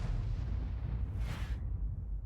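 A tank gun fires at an enemy tank in a video game: a single heavy, booming shot with a short crack, rumbling low and fading out after about a second.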